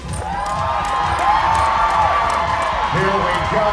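Crowd at a lumberjack show tree-climbing race in Alaska, a loud sustained wash of cheering, whoops and shouting from many spectators, with an announcer's amplified voice carrying over it throughout.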